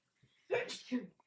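A single sneeze bursts out in the middle of a live day-trading stream, brief and fairly close, with a talking voice around it.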